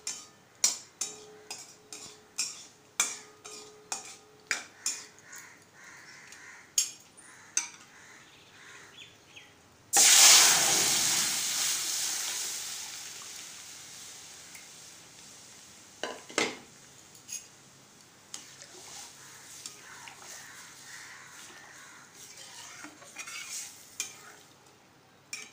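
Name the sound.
frying chillies in a pan for dal tempering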